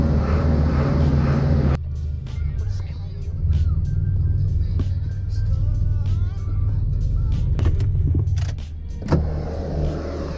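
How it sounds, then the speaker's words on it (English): A generator runs in a garage, its steady low droning hum continuing throughout the clip, with a brief louder burst near the start and end, while people talk nearby over it. "Got the generator running."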